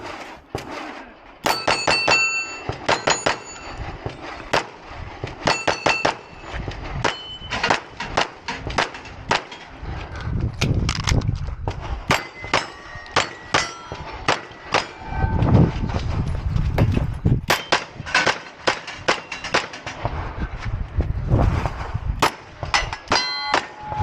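Shots from a P320 pistol ring off steel targets during a competitive shooting stage, giving sharp repeated clangs and pings in quick rapid strings, some in dense clusters, alongside duller thuds from moving and shooting.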